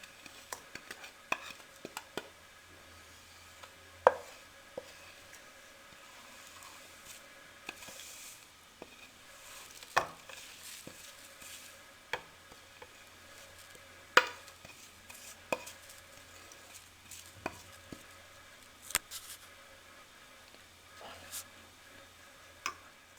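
Spices, yogurt and other ingredients are mixed in a bowl with a spoon, making irregular scraping, tapping and clinking sounds over a long stretch in a quiet kitchen.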